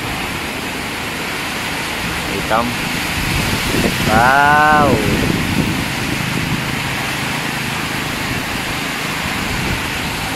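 Dense, steady roar of heavy rain and wind in Masbate, loud and continuous, with a person briefly speaking over it midway.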